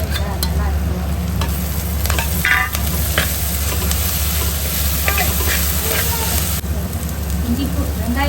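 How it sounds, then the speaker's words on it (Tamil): Onions frying with ginger garlic paste in a pan for a Coimbatore-style chicken curry, a loud close sizzle with repeated scraping stirs and clinks of the spoon, under a low steady hum. "அடுத்தது வந்து இஞ்சி பூண்டு பேஸ்ட் போட்டு கலரணும்."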